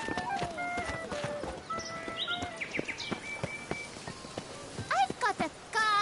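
Horse hooves clop in rain in the video game Witcher 3, with patter and uneven hoofbeats amid game sound effects, then sharper tonal cues and bursts toward the end.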